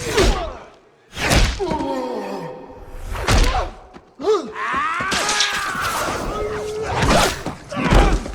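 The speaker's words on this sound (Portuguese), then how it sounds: "Todo o som é só os efeitos sonoros da pancada" Several heavy, sharp punch impacts from a Spider-Man film fight land at irregular intervals, with strained grunts and whooshing movement between the hits.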